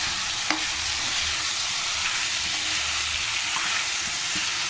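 Ginger garlic paste fries with onions and tender tamarind leaves for a chicken curry, giving a steady, close sizzle with light stirring scrapes and no voices.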